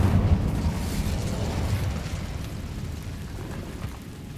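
The Incendio fire spell is cast in Hogwarts Legacy, giving a loud, low, rumbling fiery burst that starts strong and slowly fades over a few seconds, with no talking.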